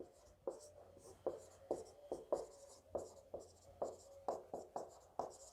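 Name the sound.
writing on a board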